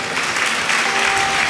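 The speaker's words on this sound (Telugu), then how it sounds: "చప్పట్లు కొట్టాలి మీరు." An audience at a Bible mission gathering claps in a steady, dense burst of applause with no pause throughout, fairly close and moderately loud.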